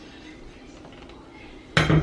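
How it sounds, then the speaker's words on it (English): A Dutch oven is handled on a stovetop, ending in one sharp metallic clank of pot against burner after near-quiet room tone. "I'm going to use my Dutch oven,"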